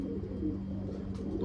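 Pigeons of the golden saleti type cooing softly in a loft, low murmuring coos running continuously at moderate distance, with a faint chirp near the end.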